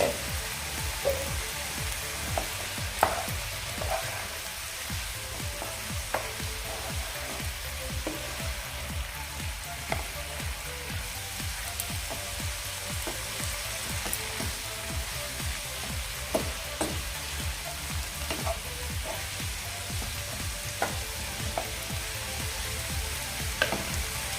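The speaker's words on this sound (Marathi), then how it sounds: "आता आपण झाकण काढून व्यवस्थित पुन्हा एकदा हलवून घेऊयात मिक्स करून घेऊयात खालीवर असं" Cabbage bhaji fries in an uncovered pan, with a continuous even sizzle and crackle and small scattered clicks from a spoon stirring and tossing it throughout.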